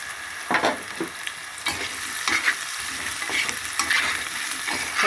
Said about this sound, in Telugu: చక్కగా ఫ్రై అవుతుంది.